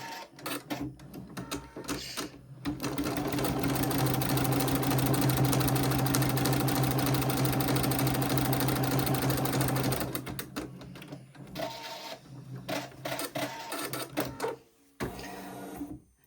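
A sewing machine runs steadily for about seven seconds, stitching out embroidery lines on a crazy quilt, loud and close, with quieter start-stop bursts of stitching before and after.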